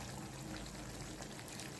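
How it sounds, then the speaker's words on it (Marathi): Hot spiced water poured into a pan of palak paneer kofta curry, making a steady, soft, continuous splashing pour with no speech over it. "मसाल्याचंच पाणी इथे मी घालते"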